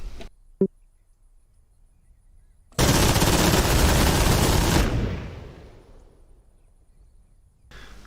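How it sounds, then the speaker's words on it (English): All guns firing at once in a flight combat video game, a dense, loud continuous roar of rapid gunfire lasting about two seconds that then fades into a reverberant tail, after a single sharp click and near silence. "All guns firing."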